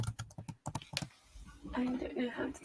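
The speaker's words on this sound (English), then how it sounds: "You guys would have been hearing me typing because I'm updating my banner." Typing on a computer keyboard, quick close clacks in a short burst, followed by a person talking over faint continued key taps.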